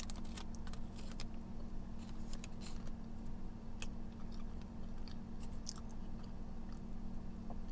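Someone chews a bite of pineapple cake up close, giving soft, moist mouth sounds and small clicks over a quiet background hum, with no speech.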